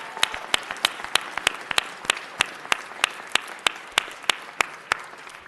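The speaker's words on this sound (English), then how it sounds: "Let's give our champions one more round of applause." Applause at a city council meeting for a champion school team, a small group clapping in sharp separate claps for several seconds in a room.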